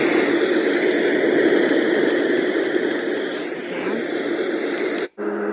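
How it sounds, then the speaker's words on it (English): A sleep sound machine on its white noise setting gives off a steady, even broadband hiss that plays alone and close, then cuts out sharply near the end. "Or I could switch to white noise."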